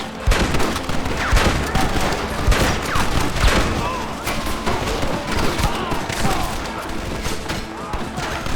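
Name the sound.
gunfire in shootout, from video game Red Dead Redemption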